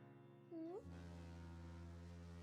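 A foghorn sound effect from a stock library gives a deep, sustained, droning blast that holds steady to the end, preceded by a brief sliding tone.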